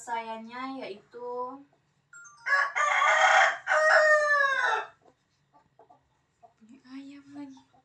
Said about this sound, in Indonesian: Ayam lagi.